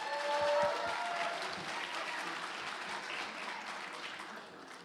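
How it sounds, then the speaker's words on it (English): Applause from guests at a sangeet, a full burst of clapping that peaks early then holds steady before easing off at the end. "Let's give Sona another big round of applause"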